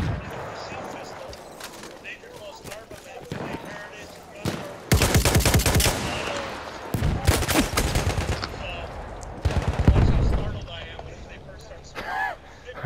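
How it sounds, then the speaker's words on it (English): Machine gun fire erupts in the Battlefield 1 video game in several loud, dense bursts of rapid gunfire. A player talks over the gameplay between and during the shots. "Black machine gun."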